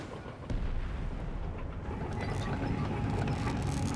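Artillery fires in a Company of Heroes 3 match on Monte Cavo, with a sharp boom about half a second in followed by a rumbling, sustained battlefield din, moderately loud.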